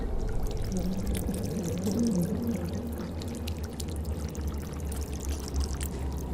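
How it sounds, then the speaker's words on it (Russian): Water pours steadily and fairly close, a continuous splashing gush without pauses. "Не гоните, ребята, это просто вода."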